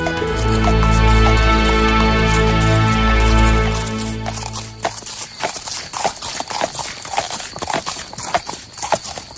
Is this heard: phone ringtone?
no